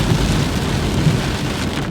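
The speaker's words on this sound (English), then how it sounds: "Tropical rainstorm." A tropical thunderstorm near a mountain resort pours down in a dense, loud roar of heavy rain, with a low rumble of thunder beneath the steady downpour.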